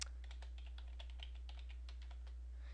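Rapid, irregular keystrokes on a computer keyboard clatter steadily for a few seconds over a low constant hum, with no talking.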